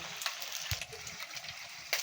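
Onions dropped into a pan of scorched tempering oil while cooking ivy gourd curry, giving a faint, steady sizzle with a few light clinks of a utensil.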